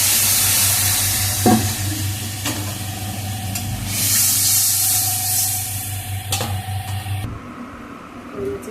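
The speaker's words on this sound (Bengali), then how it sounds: "জল দিয়ে দিলাম।" Water poured into a hot pan of koi fish curry sets off a loud, continuous sizzle with a few stirring clicks, then cuts off abruptly near the end.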